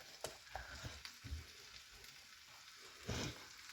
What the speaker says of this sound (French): Comme ça, le tagine est cuit tout doucement.